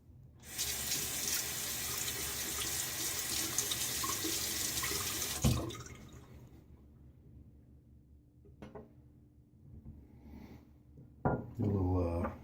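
A razor is rinsed under a running tap, water gushing steadily into a sink for several seconds, then stopping, followed by faint clinks and a short stretch of nearby talk.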